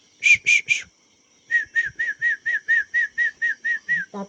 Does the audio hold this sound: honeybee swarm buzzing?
no